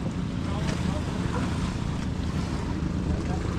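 Steady roar of a motorboat engine at sea near Siargao Island, Philippines, with wind buffeting the microphone and water rushing, continuous and loud throughout.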